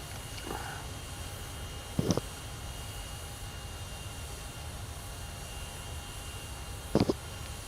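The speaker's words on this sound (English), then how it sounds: "It's always fun to taxi outside the airplane, right?" An airliner taxis in Microsoft Flight Simulator 2020 on a Miami to Orlando flight, giving a steady, low, faint engine drone throughout, with a couple of brief clicks and no talk.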